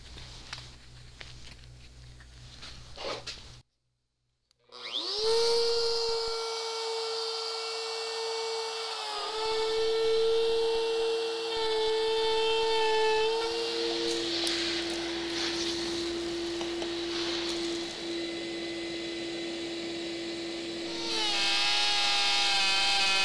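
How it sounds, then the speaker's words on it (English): A plunge router cuts a recess into a wooden tabletop for a tile inlay. It runs loud and steady with a sustained whine after a brief silent pause, and its pitch shifts slightly partway through as the cut progresses. "I am going to now set the plunge router to 13/16 for my final depth of cut"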